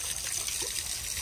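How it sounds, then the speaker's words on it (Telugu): Water pours onto freshly cast concrete pillars at a house construction site for curing, a steady close splashing trickle running continuously without speech. "అందుకని నీళ్లు పడుతున్నాం."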